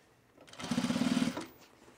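A sewing machine runs a short 1/4-inch seam on a baby bag, a close, rapid rhythmic needle chatter lasting about a second that rises and then winds down, with no talking.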